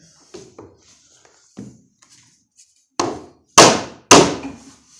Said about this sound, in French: j'utilise le plat de mon marteau